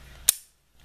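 An old Star Modelo B 9mm pistol with a magazine disconnect safety gives a single sharp, close metallic click as the trigger is pulled. Near-silence follows.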